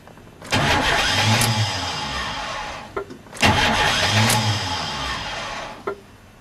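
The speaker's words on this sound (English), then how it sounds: "But here's what the starter does." A truck's starter cranks the engine twice in long, steady whirring bursts that stop with a click each time, and the engine fails to catch; close and loud, with no voices.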